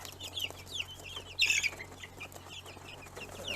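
Newly hatched chicks in their new enclosure chirp in quick, high, scattered peeps, faint with one louder cluster of calls midway, over a low steady background hum.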